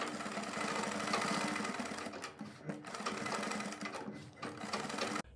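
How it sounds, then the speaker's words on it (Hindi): An electric sewing machine stitches buckram along a kurti neckline, running in a fast, steady close whir that slows with brief stutters and pauses near the end. "इसके बाद अपनी बुकरम के बराबर बराबर सिलाई को लगाएंगे।"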